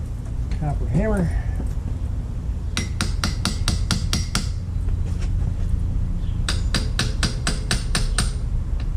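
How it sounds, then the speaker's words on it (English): A copper hammer strikes during a Dana 60 axle teardown on a workbench, landing two loud, close bursts of rapid repeated blows separated by a pause, with brief sounds of someone handling parts before them. "Copper hammer."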